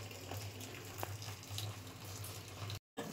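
Tap water runs steadily in a home kitchen while dishes are washed, a continuous faint splashing hiss with occasional clinks, ending in a brief dropout.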